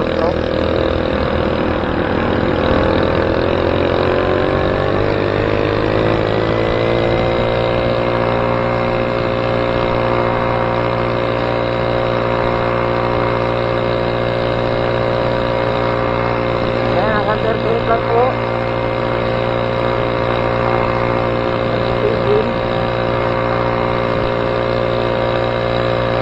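A Chinaped Zip 49cc four-stroke scooter engine runs close by with an even, buzzing drone that holds steady throughout.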